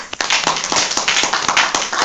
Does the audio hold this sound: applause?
yes